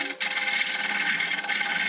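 Steady broadband shaving hiss of a gouge cutting a wooden bowl spinning on a wood lathe, loud and continuous after a brief dip at the start.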